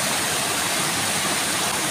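Mountain spring water at Bulao Cold Spring in Bukidnon pouring in a continuous, loud, hissing rush close by, unbroken and without talk.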